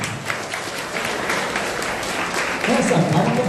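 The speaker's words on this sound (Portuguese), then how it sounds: "vamos receber uma salva de palmas que ele merece" Audience applause at a church event for the National Week of Life and Day of the Unborn, a steady broad wash of clapping throughout, swelling slightly near the end.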